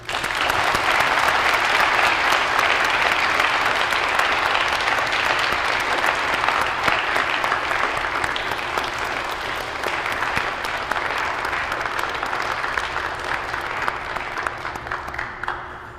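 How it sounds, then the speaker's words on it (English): Sustained applause from an audience at a high school National Honor Society induction ceremony, a steady dense clatter of many hands that holds for the whole stretch and tapers slightly toward the end. "Please join me in a round of much-deserved applause."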